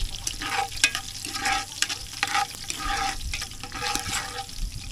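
Food sautéing in a pan, with steady loud sizzling and frying under repeated scraping and stirring strokes close by, no talk.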